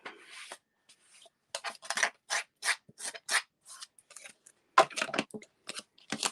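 A small cut and emboss die-cutting machine cutting leaf dies, with a series of short crunching and grinding bursts separated by brief pauses, close and fairly quiet, with no talking.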